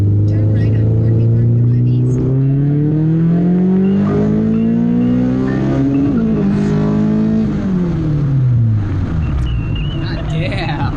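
A modified car accelerates hard through the gears, its engine rising in loud pitch sweeps with a shift and a roar heard from inside the cabin, steady and dominant.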